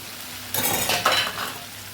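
Fried potatoes tossed with black pepper powder in a pan for a dry potato dish, a short burst of spoon scraping and light sizzling lasting about a second, close and alone.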